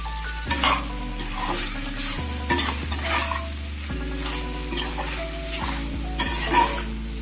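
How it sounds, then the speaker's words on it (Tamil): Pasta in tomato ketchup sauce being stirred in a pan, with repeated scraping spoon strokes over a low sizzle, close and clear, without any voices. "சேர்த்துட்டு நல்லா கலந்து விட்டுடலாம்."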